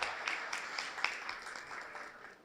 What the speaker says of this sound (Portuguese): Uma salva de palmas para ela, gente.